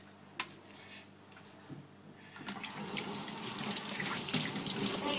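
Water pours steadily from a tap into a sink indoors, starting after a quiet moment with a faint click and swelling into a loud, continuous rush.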